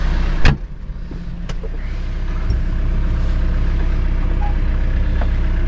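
A 4066 tractor idles steadily in an asparagus field, its low, even engine rumble running throughout after a brief sharper knock near the start.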